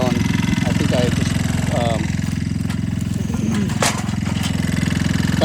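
A Talon GSX150 R2 motorcycle engine runs after a new ignition install, with a loud, steady, throbbing idle that holds for the whole stretch, while a few brief clicks and a faint voice sit on top.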